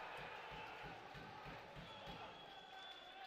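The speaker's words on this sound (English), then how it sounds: "And there's the crowd pop for Hume" Steady roar of a crowd at a Fitzroy versus Campbellfield amateur football match, a continuous wash of cheering and noise with a faint rhythmic thumping underneath.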